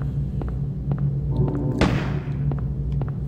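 A single gunshot in the Silent Hill 1 game, set around Alchemilla Hospital, cracks out once mid-clip as a sharp broadband burst with a short decaying tail over a steady low ambient hum.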